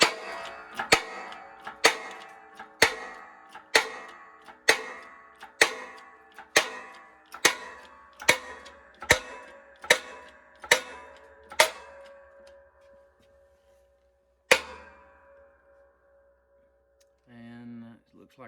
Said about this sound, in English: I got one of my bearing race drivers down in there, and now I'm just simply going to use it to press this bearing out